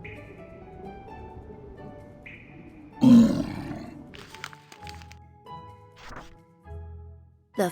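A loud, deep ogre roar from a Puss in Boots storybook game bursts out over game music, followed by lower rumbling growls and a final sharp hit.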